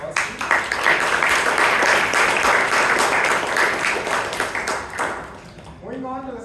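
Audience applause at a Toastmasters club meeting in Bangalore, a dense wash of many hands clapping for about five seconds before fading, with a voice starting to speak at the end.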